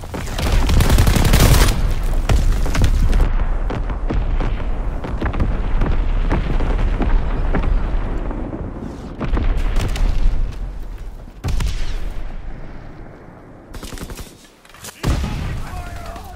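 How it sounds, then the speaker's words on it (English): An Azon bomb drops and detonates in Call of Duty WW2 multiplayer, a loud, sustained roar of explosions and gunfire with repeated heavy booms and short lulls between blasts. "Dropping Azon bomb."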